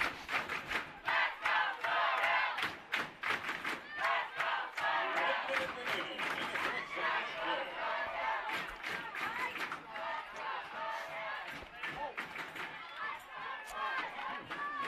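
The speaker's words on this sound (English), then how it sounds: "Crowd on their feet. Foothill fans chanting." Foothill fans at an Orange County boys lacrosse semifinal chant loudly and rhythmically, the packed crowd on its feet roaring in dense, pulsing waves that fill the whole stretch.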